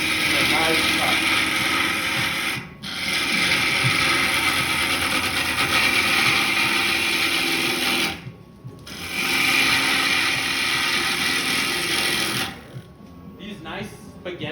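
A wood lathe tool cuts a turned wooden bowl, throwing long shavings; a steady broadband scraping hiss runs continuously with two brief pauses, close and loud, while a person talks over it.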